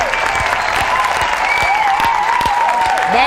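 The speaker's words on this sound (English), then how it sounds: "Go ahead, clap your hands." Loud, continuous hand clapping mixed with whoops and whistles from an excited crowd reacting to E3 2024 game announcements, sustained throughout with a few sharper individual claps.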